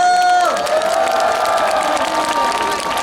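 A festival crowd at an outdoor Korean fermented-shrimp festival in Mapo bursts into loud, sustained applause and cheering after an announcement, the clapping steady and dense throughout, with a brief tone fading at the start.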